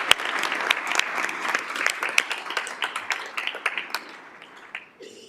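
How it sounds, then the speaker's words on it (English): An audience at a school district governing board meeting claps for a student athlete. The applause is moderately loud with sharp individual claps and fades out toward the end. "There's lots of clapping"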